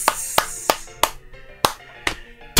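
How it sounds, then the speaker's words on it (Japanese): Sharp hand claps land one at a time at uneven intervals, each a crisp, isolated smack against a quiet background. "拍手を送りたいと思います。"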